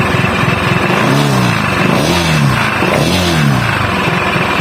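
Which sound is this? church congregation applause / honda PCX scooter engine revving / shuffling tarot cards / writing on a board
honda PCX scooter engine revving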